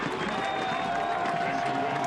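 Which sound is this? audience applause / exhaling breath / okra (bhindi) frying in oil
audience applause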